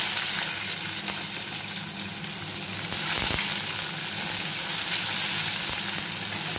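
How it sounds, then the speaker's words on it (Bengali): Onions sizzling steadily in a hot pan after fried mung dal, a dense continuous crackle with occasional stirring clinks, close and fairly loud, no voices. "পেঁয়াজটা একটু ভাজা হবে, লাল মতো হলে"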